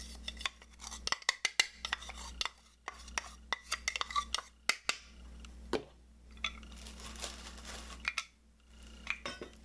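A spoon or fork handle scrapes seasoning powder out of a container, making faint, irregular clinks, taps and short scrapes in a quiet room.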